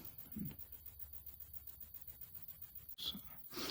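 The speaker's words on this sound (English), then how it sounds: "So I'm going to work on this shape with the sander some." A sander shapes a small wooden miniature poleaxe with quiet, evenly spaced rubbing strokes in a steady back-and-forth rhythm, followed by a few brief louder scrapes at the end.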